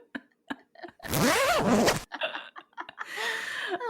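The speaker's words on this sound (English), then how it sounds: "who doesn't love a good zip noise?" A zipper is pulled in one long, loud run lasting about a second, amid short clicks and rustles, then a second scratchy zip follows near the end, with light laughter around it.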